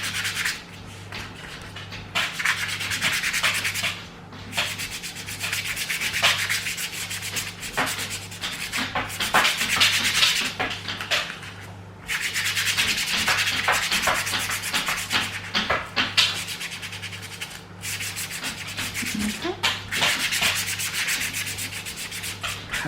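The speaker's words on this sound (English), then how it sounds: "You're not painting, you're just rubbing your brush across." A dry paintbrush rubs back and forth across furniture in a dry-brush technique, making a continuous scratchy swishing with rhythmic strokes and brief pauses, close and fairly loud, over a faint steady hum.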